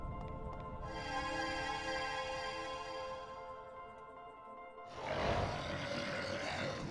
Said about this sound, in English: White wolves for no reason. Not even demons. They're just wolves.